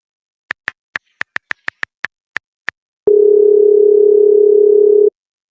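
A phone being dialed: about eleven crisp, evenly spaced key beeps, then a single loud, steady electronic tone that holds for roughly two seconds before cutting off.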